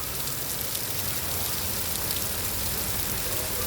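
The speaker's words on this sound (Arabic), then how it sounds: "هذا اختي الشتا من الشارقه الامارات" Steady rain falling in Sharjah, UAE, a dense, even hiss of drops on surfaces with no pauses, close and constant throughout.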